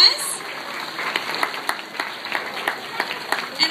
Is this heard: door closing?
no